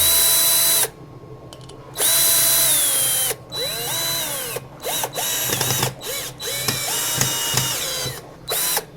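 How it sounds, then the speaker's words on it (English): A power drill whirs in short bursts, pitch rising and falling as it drives screws, with clicks and pauses between runs. "Screw in there, and a screw in there. Good old drill."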